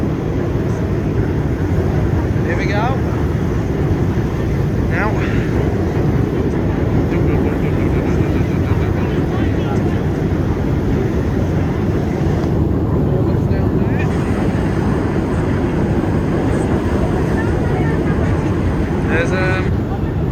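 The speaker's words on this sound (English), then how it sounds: "Hear the motor. The iconic, the awesome chain ferry." Steady low engine drone of the Sandbanks–Studland chain ferry, loud and continuous throughout, with wind buffeting the microphone and a person speaking briefly over it.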